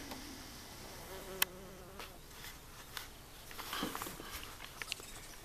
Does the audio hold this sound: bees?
yes